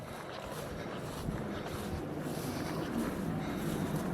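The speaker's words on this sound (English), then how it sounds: "You can hear all the boats out in the water." Steady broadband rumble of jet skis and speedboats out on the water near Berry Head, distant and continuous, with wind noise across the microphone.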